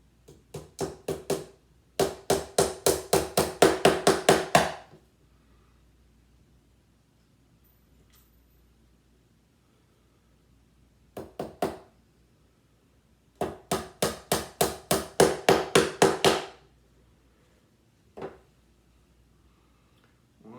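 A tack hammer drives small nails into a wooden beehive frame in two quick bursts of rapid, evenly spaced taps, with a few single knocks between them, all close and sharp against a quiet background.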